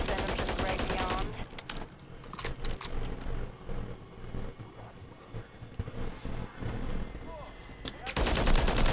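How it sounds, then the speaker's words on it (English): Bursts of automatic gunfire in the Modern Warfare Zombies video game, dense rattling volleys running through the whole stretch, loud and close, mixed with game noise and effects. "Don't shoot at me, you Gibbons."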